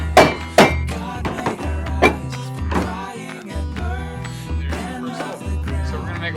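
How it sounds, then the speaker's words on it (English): A hammer strikes a small screwdriver to punch holes in metal for a TLUD biochar stove, several sharp, uneven knocks, a few louder blows followed by softer taps, heard close up. "I'm just going to use this small screwdriver and hit it with this hammer and get a hole"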